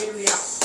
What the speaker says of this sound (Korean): 우리 박수로 한번 시작하도록.